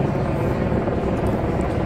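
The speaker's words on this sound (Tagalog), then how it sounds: "Mga helicopter." Helicopters flying over a crowded boat parade on the river in Bilbao, celebrating Athletic Bilbao, heard as a steady, loud broadband rotor and engine roar that fills the scene without pause.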